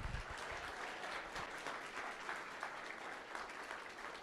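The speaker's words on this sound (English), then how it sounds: "Let's have a hand of applause for Dylan." Audience applause at a university humanities awards ceremony, a continuous wash of many hands clapping, fairly distant and quiet in a large hall, lasting a few seconds without speech.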